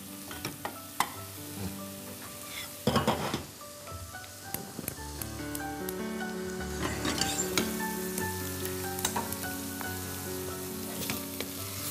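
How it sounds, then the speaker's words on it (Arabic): Leeks and onions sizzle steadily in a pan while a utensil knocks and scrapes now and then, with a few sharper clatters early on and a continuous close frying hiss throughout. "كمان منضيفهم على البصل بس ليتقلى شوي البصل."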